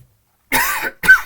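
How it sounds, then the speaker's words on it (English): Two close, sharp coughs, the second brief, after a short silence. "You don't want to listen to me coughing for 30 seconds anyway."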